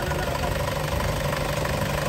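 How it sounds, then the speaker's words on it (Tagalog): An Isuzu Highlander's air-conditioning compressor runs with a steady, close mechanical hum and faint knocking vibration, unbroken throughout and with no speech. "Ayan yung compressor niya"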